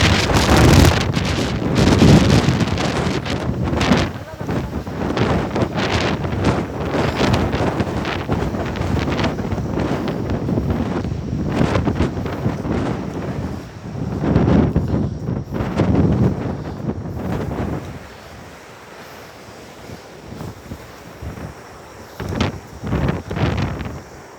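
Strong typhoon wind at a beach buffets the microphone in loud, gusting roars, with rustling and surf-like noise underneath and brief quieter lulls between blasts, and no voices.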